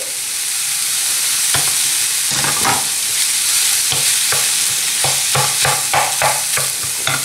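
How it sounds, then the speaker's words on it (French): Minced meat frying loudly in a hot pan, stirred and broken up with a wooden spatula, with a steady close sizzle and repeated scraping strokes growing more frequent toward the end. "ma spatule en bois pour pouvoir réduire la viande hachée en petits morceaux et éviter d'avoir des paquets"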